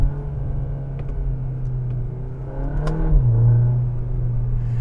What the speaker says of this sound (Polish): zaletą będzie układ wydechowy, który w tym samochodzie fajnie brzmi, fajnie strzela